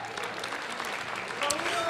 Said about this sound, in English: Zach Whitworth, give him a round of applause.